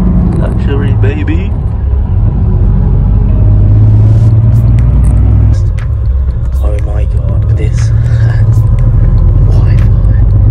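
Steady low engine rumble and road noise inside a luxury sleeper bus travelling between Da Nang and Vinh, Vietnam, loud and continuous throughout with faint background sounds above it.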